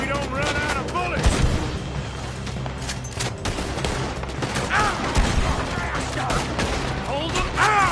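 Rapid bursts of gunfire crack through a video game shootout during a robbery, with dense overlapping shots and booming reports filling the whole stretch while voices shout over the din.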